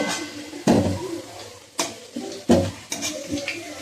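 Metal spoon scraping and clinking against a pan of deep-red fried potatoes as excess oil is lifted out, with four or five sharp knocks spread over a few seconds amid light kitchen clatter.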